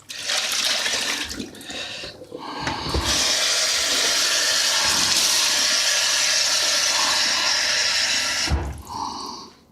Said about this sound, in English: give the potatoes a bit of a rinse. Let's give them a bit of a wash.